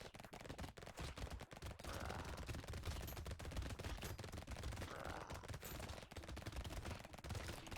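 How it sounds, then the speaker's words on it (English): A cursed red SMG fires nonstop in the arena shooter Brotato, a rapid, even stream of small clicky shots that runs the whole stretch at a low, steady level. "Let's see how this cursed purple SMG, sorry, cursed red SMG does."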